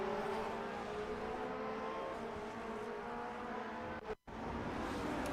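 Race cars roar in a steady pack at the start of a Grand Prix Legends race at Autodromo Internazionale Enzo e Dino Ferrari, a dense continuous engine drone that cuts out abruptly near the end.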